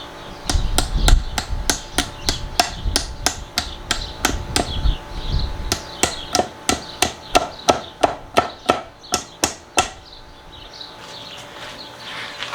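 Hammer blows strike wood to smooth a notch that will hold a 2x4 for a table build, about thirty sharp, evenly spaced knocks close by, with a brief pause midway and quiet after.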